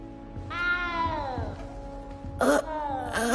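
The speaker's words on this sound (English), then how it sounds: "You don't need to be frightened, little cat." A cat meows in the Hogwarts Legacy video game, with one long drawn-out meow followed by two shorter, sharper cries, close and clear over a low ambient game backdrop.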